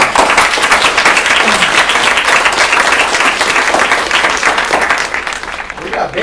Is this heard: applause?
yes